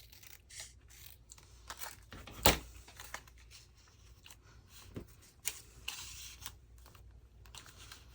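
Scissors cutting paper for a handmade accordion-fold craft project, quiet close snips and rustles spread across the span with one sharper crisp cut, otherwise faint handling sounds.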